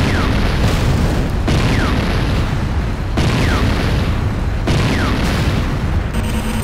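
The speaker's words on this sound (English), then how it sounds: "GDI Tiberium Refinery destroyed." A GDI Tiberium Refinery blowing up in the Renegade video game: a continuous loud, roaring explosion rumble that never drops off, with several sharp blasts punching through it, and no voices.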